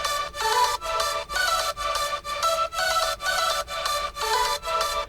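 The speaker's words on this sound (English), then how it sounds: "So without the pitch bend, the leads sound like this." Bright synth lead melody with no pitch bends, playing in rhythmic, chopped bursts with regular dips between notes, loud and close with no voices, from the making of a track.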